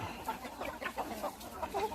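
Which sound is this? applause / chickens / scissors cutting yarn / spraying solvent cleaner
chickens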